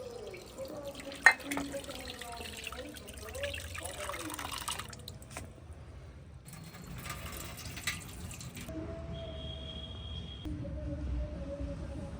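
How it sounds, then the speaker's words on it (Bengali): Fish roe is washed by hand under running water in a village kitchen, a faint, steady flow of water with small splashes and drips throughout, fairly distant and low in level. "মাছের ডিমটা খুব ভালো করে ধুয়ে নেব।"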